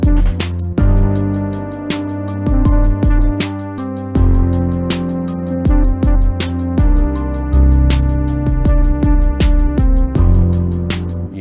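A hip-hop beat made in FL Studio thumps along with heavy bass hits and sharp percussive snaps, an added piano pattern in the background repeating beneath, loud and close with no talking.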